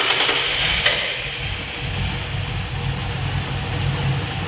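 A 1970 Dodge Challenger engine, its old carburetor choke being worked, cranks and then settles into a steady, rough, low running idle that stays close and continuous.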